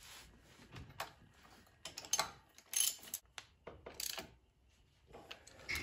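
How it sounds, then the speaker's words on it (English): A ratchet tightens the front axle nut on a Hawk 250 motorcycle, producing quiet, irregular clicks and metallic clinks with small knocks of parts being handled, all faint and close. "Now we'll go ahead and put the axle nut on"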